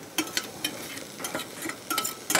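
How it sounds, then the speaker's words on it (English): Boiled kumara warm in a little oil in a pan, giving a soft sizzle. Close stirring and scraping sounds run over the top in brief bursts. "I'm just going to pop a little bit of oil into my boiled kumara"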